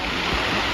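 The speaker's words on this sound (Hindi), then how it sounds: "झरना बह रहा है।" A waterfall on a mountain trail gives a loud, steady rush of water that fills the whole brief moment, with no voices over it.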